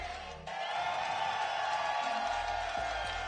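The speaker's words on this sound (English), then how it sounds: "Dominican Republic, you want to see a tiebreaker between these two teams? Let me hear it." Crowd noise from spectators at a Blink Showdown fighting event in the Dominican Republic, a sustained loud roar of cheering that swells after a brief lull and holds steady throughout.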